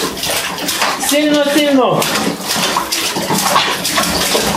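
A child splashes water in a bathtub, steady broadband splashing throughout, with an adult voice speaking over it and a brief high-pitched exclamation in the middle.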